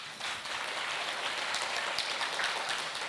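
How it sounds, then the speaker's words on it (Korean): Students in a lecture audience clap together, a dense, even patter of many hands lasting about three seconds at moderate level, with no voices over it. "혹시 이 말을 들은 분들 한번 좀 박수 좀 쳐주시겠어요?"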